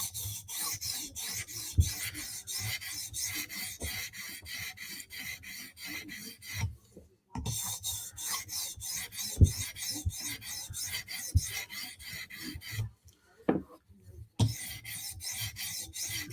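Vero Synapse and Berg knife blades being sharpened, a quiet, steady rasping scrape of steel on an abrasive surface in repeated strokes, with two brief silent pauses between passes.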